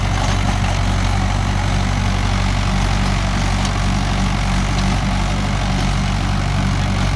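A Mahindra 415 DI tractor engine running in farmland, a loud, steady diesel drone with a throbbing low chug that holds unchanged throughout, close by with no talk.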